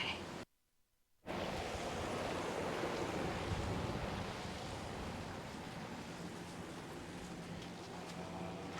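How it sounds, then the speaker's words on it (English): Strong, gusty wind roars steadily across a fall garden, a broad loud rush buffeting close to the microphone with no voices. "whenever it's excessively windy like this"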